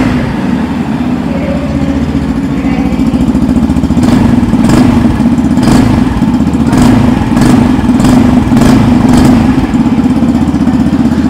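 A 2024 Yamaha FZ-X motorcycle idles with a loud, close exhaust burble, then gets a series of about eight quick throttle blips, each rev rising and dropping back to idle.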